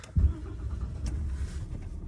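A new truck's engine cranks and catches with a brief low burst, then settles into a steady, close rumbling idle.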